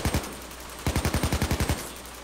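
Rapid gunfire in the video game Payday 2, a couple of separate shots followed by a fast burst of about eight loud, evenly spaced cracks.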